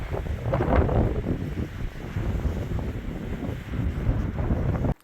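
Strong wind buffets the microphone on the summit of Chairback Mountain on the Appalachian Trail in Maine, a loud continuous rumbling roar that runs steadily for several seconds and then cuts off abruptly.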